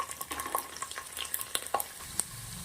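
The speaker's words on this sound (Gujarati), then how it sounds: "લસણની કળી નાખ્યા પછી લસણની કળી સરસ લાલ થવા દેશું" Garlic cloves fry in hot oil in a pan for a pulao, crackling with a steady stream of sharp close pops and sizzles and no talking.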